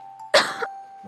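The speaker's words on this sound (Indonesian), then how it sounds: "batuk ya?" A single short, sharp cough bursts out, followed by a faint trailing throat sound, indoors in a quiet room with a steady electrical hum underneath.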